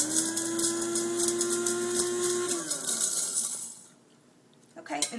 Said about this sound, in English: So let's grind this up real quick.